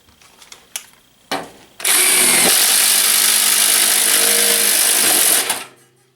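Milwaukee Shockwave thin wall hole saw cutting a 1 1/8 inch hole: a few soft clicks, then a loud, close, high-pitched whine of drilling that holds for about four seconds before stopping abruptly.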